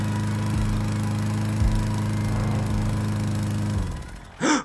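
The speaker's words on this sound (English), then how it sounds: "It sounded like a lawnmower." A lawn mower engine in the Roblox Berry Avenue video game drones loud and steady with a few small surges, then cuts off, followed by a brief rising whine.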